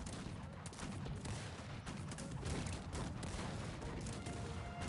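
Dense, continuous gunfire and volleys from a battle in the strategy game Cossacks 3, with overlapping shots and booms filling the whole stretch at a steady, loud level.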